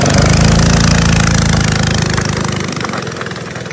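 A small go-kart engine idles and runs loudly up close, a steady rough putter that gradually fades slightly in volume.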